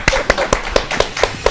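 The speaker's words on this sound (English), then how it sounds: "You can clap." A small group claps in a steady, even rhythm of about four crisp claps per second, close and fairly loud, for a brief stretch after a song.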